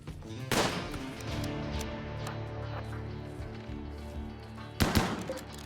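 Gunfire in the colony-building video game RimWorld: two sharp shots, one early and one near the end, over a steady droning background of game music.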